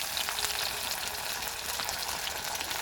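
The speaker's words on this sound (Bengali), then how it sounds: "পেঁয়াজটা একটু হালকা করে ভাজা ভাজা করে নেব" Chopped onion sizzles in hot oil tempered with whole cumin, a steady soft crackling fry, close and continuous with no voices.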